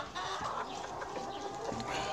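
Hens in a coop, including Blue Brahma, Plymouth and Sussex birds, cluck softly and repeatedly, several birds murmuring together at close range.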